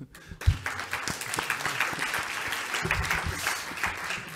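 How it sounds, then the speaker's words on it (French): An audience in a lecture hall at a medical talk on ambulatory surgery breaks into steady applause, many hands clapping together for several seconds at moderate loudness with no voices over it. "On peut l'applaudir"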